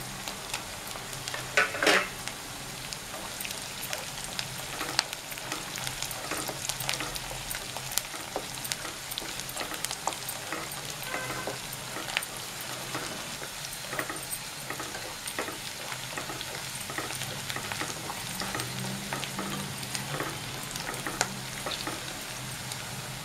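Green chillies fry in a chicken curry pan, a steady close sizzle of hot oil with frequent scraping and clinking of a spoon stirring, continuing evenly throughout without talk.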